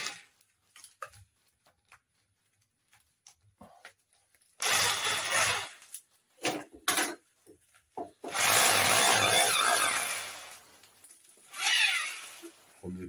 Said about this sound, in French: Premier perçage.